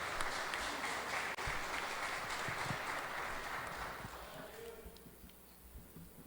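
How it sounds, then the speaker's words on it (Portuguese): Church congregation applauding during a Sunday morning service, a broad wash of clapping that holds steady and then thins out toward the end, heard at a distance and fairly quiet. "Aplauda mais uma vez,"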